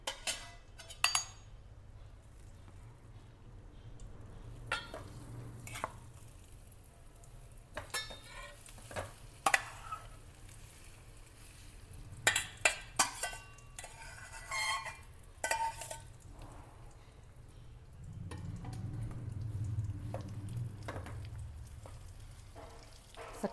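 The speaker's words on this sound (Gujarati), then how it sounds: "ઘી ગરમ થાય એટલે આપણે શક્કરિયાનો માવો અંદર ધીમા તાપે શેકીશું." Sweet potato mash roasting in ghee over low heat in a pan, with a soft continuous sizzle broken by frequent scraping and stirring clinks of a spoon against the pan, growing a little louder toward the end.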